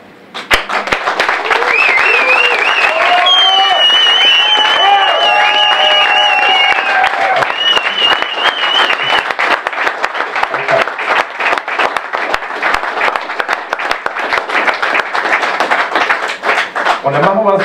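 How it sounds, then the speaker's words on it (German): Prolonged audience clapping and cheering at a charity event in a small concert hall greets a social prize winner coming on stage, a loud, close wash of hands with whoops and voices early, settling into steady applause. "jetzt aber bitte ich den Preisträger des diesjährigen Sozialpreises, Kai Eichler, auf die Bühne. Applaus"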